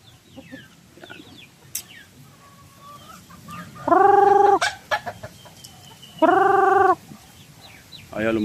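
Native chickens loose in a small range net area, with a couple of loud, harmonic clucks or calls standing out over quieter scattered bird chatter and soft background rustle.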